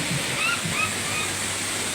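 Laguna Falls, a waterfall in Perez, Palawan, gives a constant broadband rush of falling water, with faint voices barely audible beneath it.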